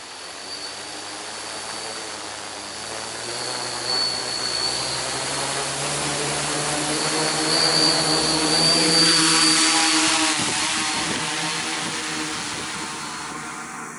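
A Y-configuration multirotor drone spools up and takes off, then hovers close by. Its motors make a loud, steady whining drone that swells to a peak midway and holds there, and no voices are heard.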